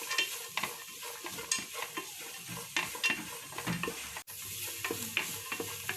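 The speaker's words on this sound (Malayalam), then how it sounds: "ഇതിലേക്ക് കുറച്ച് ക്യാബേജും കൂടി ആഡ് ചെയ്ത് കൊടുക്കാം. ഇത് നല്ലപോലെ ഒന്ന് സോട്ട് ചെയ്തെടുക്കാം." Cabbage is sautéed in a pan for chicken egg fried rice, with a soft continuous sizzle broken by repeated scrapes and taps of a spatula as it is stirred, moderately close.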